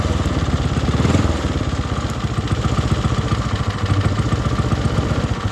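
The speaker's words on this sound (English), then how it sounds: "I think I got the idle set a little low." A Hammerhead 150 engine idles steadily, its idle set a little low, giving a close, loud, even putter with a fast regular pulse and slight clatter, with no voices over it.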